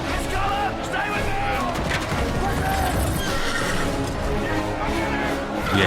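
A horse neighs and gallops during a chariot and arena fight in the 2000 film Gladiator, set within a dense, loud movie soundtrack with voices talking throughout.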